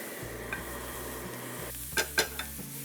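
Drumstick leaves sizzling in a tempering pan over a low hum, with a few sharp metallic scrapes and clinks of a spoon stirring near the end.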